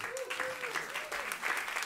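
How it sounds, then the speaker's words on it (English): Audience applause at an agriculture and climate solutions event, a steady wash of clapping filling the short stretch with a faint tone running beneath. "Give her a round of applause."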